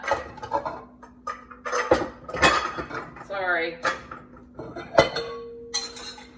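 A glass bowl knocks and clinks against dishes in a kitchen, several sharp close clatters scattered among talk, with one bright ringing clink near the end.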